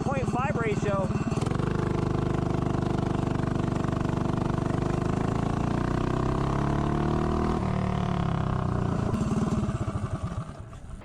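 A 212-powered mini bike engine revs hard and climbs steadily in pitch as the bike accelerates from a standstill to 30 mph, loud and close, with a brief shift partway and easing off at the end.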